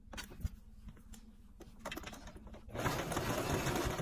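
A sewing machine zigzag stitches the bottom of a stretch slouchy hat in African Ankara fabric, short faint bursts of stitching that build into a louder continuous run near the end.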